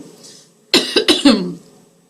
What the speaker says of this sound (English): I've got a little coughing fit